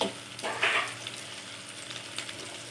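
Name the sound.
green chillies and onions frying in oil in a pan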